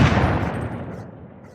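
A single gunshot, loud and close, with a sharp boomy blast that trails off into a long decaying reverberation.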